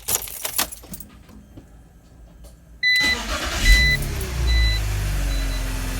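Keys jingle in the ignition of a 2004 BMW Z4 E85, then after a pause the freshly repaired engine, with its new serpentine belt idler pulley, cranks, catches and settles into a steady, smooth idle close by.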